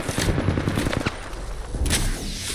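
Gunfire in the Apex Legends video game comes as rapid automatic bursts, close and loud, with a few short pauses between the strings of shots.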